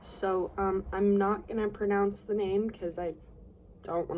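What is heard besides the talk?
No everyday noise stands out behind the speech.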